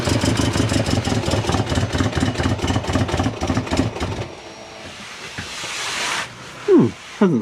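A Subaru Forester engine idling with a pulsing exhaust note from an exhaust leak, loud and rhythmic up close, then cutting to quieter hissing air and a few brief squeaks and knocks near the end.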